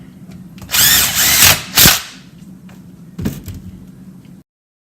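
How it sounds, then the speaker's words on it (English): A power drill drives longer screws coated with Loctite into a car's motor cover in a few short whirring bursts, the last one briefer and quieter. "I went and bought a little longer screw. We're going to run these in with some Loctite."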